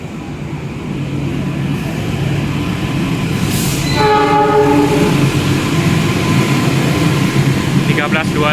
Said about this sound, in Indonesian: Jalur 4-nya juga ada kereta masuk.